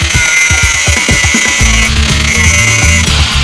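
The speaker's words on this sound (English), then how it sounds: "the next step is to cut our little gutter pieces into little sections" A power tool cuts metal gutter pieces into short sections for a van roof rack, first with a run of rapid, loud grinding pulses, then a steady, harsh buzzing whine very close by.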